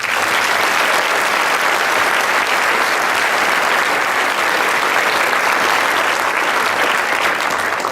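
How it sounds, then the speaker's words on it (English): A large audience at a business awards and hall of fame ceremony gives sustained, loud applause for the award recipients, a dense and even roar of clapping that fills the whole stretch. "please give another round of applause to this year's recipients"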